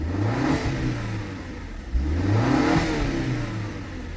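A Chevrolet Captiva engine, formerly throwing a check-engine fault, revs up in two strong swells, dipping briefly between them, close and loud with no talking.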